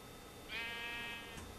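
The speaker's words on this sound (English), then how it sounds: "Freaking sheep, I hate you, go die." A sheep in Minecraft gives a single clear wavering bleat, followed by a shorter one, faint and isolated against quiet background noise.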